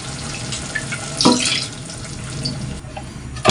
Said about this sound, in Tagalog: Lagyan mo tubig kasi sayang yung latak eh.